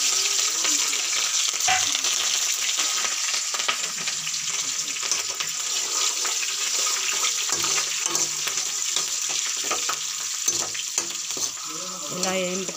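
Peanuts fry in oil in a large kadai for puliyora: a steady, close sizzle with occasional stirring scrapes and faint clinks, running unbroken throughout.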